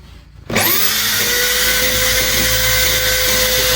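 An electric drill fitted with a grinding stone attachment switches on after a short quiet moment, then holds a loud, steady high-pitched whine close by, with no talk.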